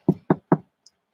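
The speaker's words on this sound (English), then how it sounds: "Knock on wood" Three sharp knocks rap on wood in an even, quick rhythm, close and clear, followed by a faint tiny tap.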